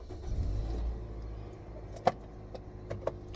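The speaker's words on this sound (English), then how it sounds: "I started my car up because this AC was not coming cool just now." A car engine turning over and starting inside the vehicle, a low steady rumble with a sharp click-like transient midway and a few lighter knocks after, heard close with no talking.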